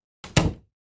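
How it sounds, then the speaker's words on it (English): A single door opens with a short thud and is then pushed closed with a louder thump, both brief and close by in a quiet room. "I heard the front door open"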